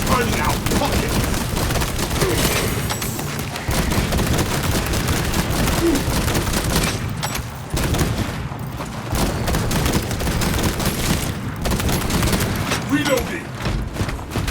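Sustained heavy gunfire in Warhammer 40k Space Marine 2, dense crackling volleys with occasional deep booms running throughout, broken by brief lulls, with game voices speaking over the din.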